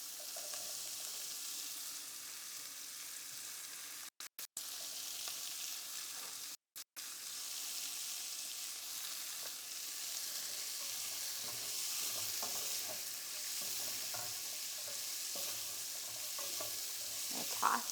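Onions and carrots sizzle steadily in olive oil for a long stretch, with the scrape and clatter of stirring throughout and two short dropouts partway through. The sound is moderately quiet and close, with no talking.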